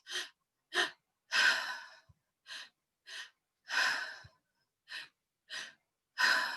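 Forceful rhythmic breathing during an active guided breathwork session: sharp inhales and exhales close to the ear, short puffs alternating with longer heavy breaths, all without any talking.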